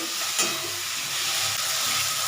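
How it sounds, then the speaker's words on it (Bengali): Spice paste fries in a pan with a continuous close sizzling hiss, a single brief stirring knock near the start, no talking. "মশলাটা দেখো ভাজা হয়ে এসছে"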